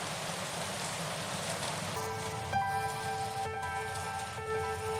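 Steady, faint rain falls in a TV drama scene as a continuous hiss of drops, with thin tonal sounds entering partway through.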